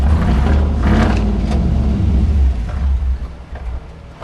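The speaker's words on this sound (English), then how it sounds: "It's idling super low right now," A 1973 K5 Jimmy's engine idles very low and rough, with a close, deep, uneven rumble that stays steady and fades slightly toward the end.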